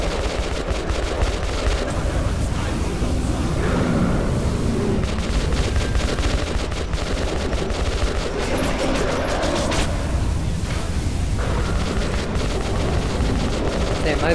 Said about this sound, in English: Yeah, that's my new gun.